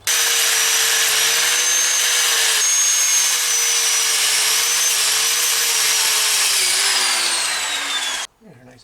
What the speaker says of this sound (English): I just take my grinder, and I got a wire brush on there